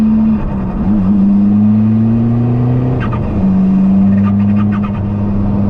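A diesel-converted Toyota MR2 engine rises steadily in pitch under acceleration while driving, loud and close from inside the car, with a brief dip around a gear change before pulling again.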